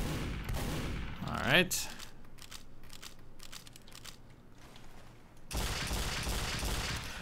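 A video game shotgun fires in quick succession, sharp blasts cutting in at the start and again near the end, with a brief spoken remark and quieter handling sounds between.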